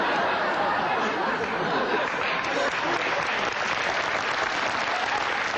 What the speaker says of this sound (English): a lot of applause today, a lot of applause.